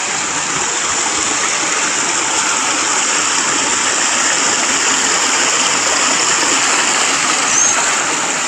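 River water rushes and splashes over large rocks in Sogod, Southern Leyte, a loud, steady broadband roar that holds unbroken from start to finish.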